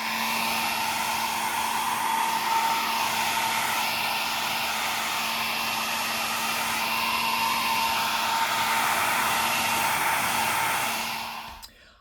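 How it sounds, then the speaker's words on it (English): A hair dryer blows steadily at close range inside a damp camper trailer, drying coffee-stained paper pages, a constant loud whirring hum that cuts off abruptly near the end. "using my hairdryer to dry them because it gets very damp here at camp"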